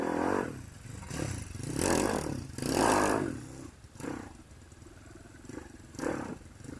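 A 125cc Thumpstar motorcycle engine revs hard in several throttle bursts, surging and dropping back between them, loud and close with no talking.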